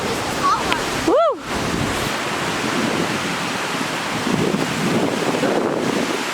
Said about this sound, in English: We're gonna go in, it's getting really windy.